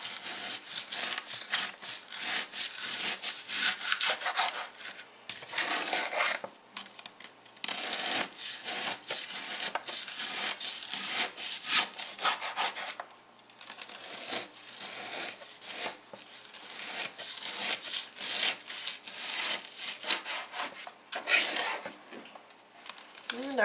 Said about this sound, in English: you can slice them as thick or thin as you would like